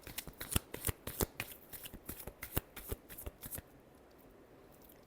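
A final shuffle of a tarot deck, quick close riffles and flicks for about three and a half seconds, then quiet, no talking.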